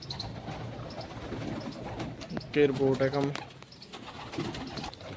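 Pigeons coo in a short soft burst while feeding on grain, close by, under steady talk from a person nearby.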